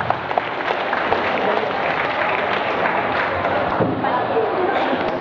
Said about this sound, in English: I think we all should give her a round of applause